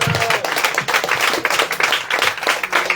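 Guests at a church-style wedding reception clap for the couple, a loud, rhythmic round of hand clapping with regular beats, as if in time to music.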